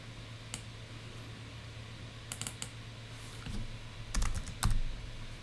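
A few short bursts of keystrokes on a computer keyboard, scattered clicks and quick clusters over a low steady room hum.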